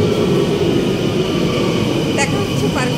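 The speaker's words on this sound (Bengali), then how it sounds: "মেট্রো স্টেশনের মধ্যে আছি," Metro station in Brussels, where a train's loud, steady roar and rumble fills the space with dense mechanical noise, and a voice briefly cuts through near the end.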